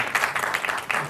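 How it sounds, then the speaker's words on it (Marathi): A brief burst of dense, steady applause comes from the audience at a press conference for a Marathi TV serial. "एकदा माझ्याकडनं सुद्धा खूप जोरदार टाळ्या तुमच्यासाठी"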